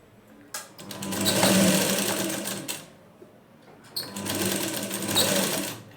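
A sewing machine stitches front-panel fabric for a plain blouse in two loud bursts of rapid whirring, separated by a short pause near the middle, close by and with no voices.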